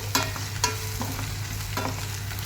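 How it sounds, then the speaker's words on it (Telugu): Coriander and garam masala powders frying in a pan with spices, a steady close sizzle punctuated by a few sharp scraping stirs of a spatula, no speech. "ధనియా పౌడర్ గరం మసాలా పౌడర్ ఇవన్నీ వేసుకొని ఒక రెండు నిమిషాలు వేగనివ్వాలి"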